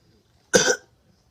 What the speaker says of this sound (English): Naruto would cough.